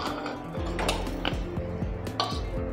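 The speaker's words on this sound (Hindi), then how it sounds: "ढक्कन खोल के राजमा को चेक कर लेते हैं।" Metal pressure cooker lid being opened after cooking rajma, with a quick run of clanks, clinks and scraping of metal on metal, close and fairly loud, with no talking.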